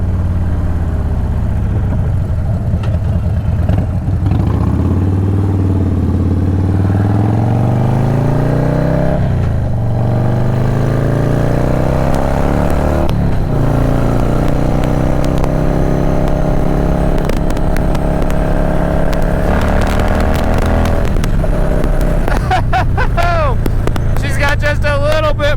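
A Harley-Davidson Dyna Low Rider S motorcycle being ridden, its engine drone steady and loud, rising and falling in pitch as it pulls through gears, with wind noise throughout and a rougher burst of revving near the end.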